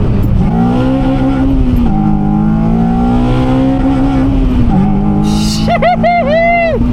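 Honda Civic Type R pulling hard through the gears, engine note climbing and dropping at each shift, loud and close inside the cabin, with a sharp tire squeal or chirp near the end and a voice talking over it.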